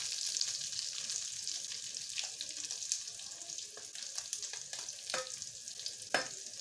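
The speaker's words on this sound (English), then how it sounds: "So at this point, I'm adding my onion." Chopped onion sizzling with pork in a hot pan during a dry fry, a steady crackling hiss with occasional louder pops and stirring scrapes throughout.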